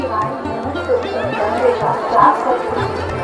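A dense crowd of devotees gathers at the Shiv Mahapuran katha in Chalisgaon, a steady murmur of many voices chattering at once, close and continuous throughout.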